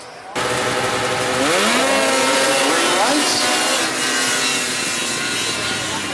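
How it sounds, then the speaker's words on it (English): Stock 800 class racing snowmobiles launch up a hill drag at Edelweiss, Quebec, engines snapping on loudly and rising sharply in pitch, then holding a dense high-revving roar as the sleds climb. "And both sleds spin mightily off the line"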